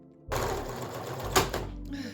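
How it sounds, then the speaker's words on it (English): A sewing machine top stitching along the hemband of a zip-up hoodie starts abruptly and runs as a fast, close mechanical whir, with a sharp clack near the middle as a needle breaks before the motor winds down. "Now I just want to top stitch along the entire hemband to secure that seam allowance down to the bodice side."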